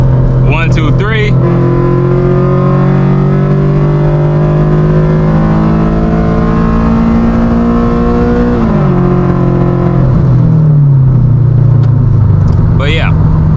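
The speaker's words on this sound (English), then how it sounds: "So I'm gonna do it again for a demonstration. So downshift, downshift, downshift, and then 1, 2, 3." A car with paddle shifters revs loudly and close, its engine note dropping through downshifts and then climbing and stepping through upshifts, with someone talking over the engine.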